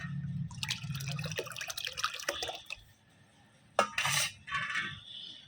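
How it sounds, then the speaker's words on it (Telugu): Water splashes and trickles into a container while mixing a plant fertilizer solution, amid clinking of a vessel, with a brief louder pour near the end; no talking. "ఇందులో సగం నీళ్ళు మనం ఇందులో కలుపుకుందాము"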